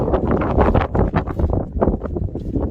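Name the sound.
wind on Lake District campsite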